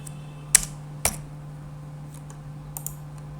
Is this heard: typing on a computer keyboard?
yes